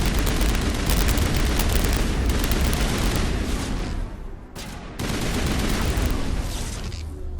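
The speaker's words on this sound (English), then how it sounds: "Taking fire from down there." Dense, continuous gunfire during a firefight in the video game Mass Effect, loud overlapping bursts and booms that barely let up, with a brief dip midway before the barrage resumes.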